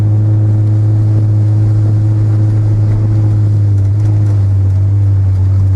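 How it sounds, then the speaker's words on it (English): Loud, constant low exhaust drone from a Honda Prelude while driving, a heavy steady hum filling the cabin without a break. "the exhaust drone's really bad"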